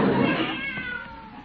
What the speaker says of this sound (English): Seems I can still hear that darn cat.